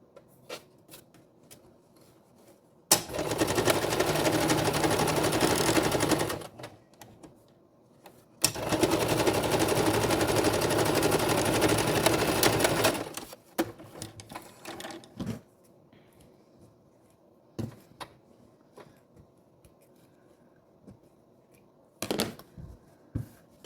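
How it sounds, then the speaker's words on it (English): Sewing machine stitching along the yellow neck and wing of a fabric chicken-and-egg activity page, heard as two sustained loud runs of several seconds each, followed by a few short clicks and handling noises. "I'm going to sew right down here on the yellow neck, and then also right along the wing."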